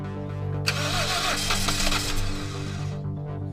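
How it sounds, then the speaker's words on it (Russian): A 2003 Toyota Wish engine cranks and catches, starting with a sudden roar and then settling into a steady running hum up close. "Запустите двигатель."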